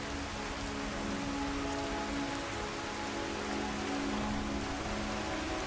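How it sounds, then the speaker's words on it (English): Heavy downpour in the video game Skyrim, a dense, steady hiss of rain pattering on surfaces, constant and enveloping for the whole stretch with no voices. "It's downpouring, and so now everyone's going inside."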